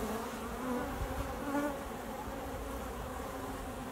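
Honey bees buzz steadily inside a backyard hive, a dense, continuous hum of many wings held close and even throughout with no voices.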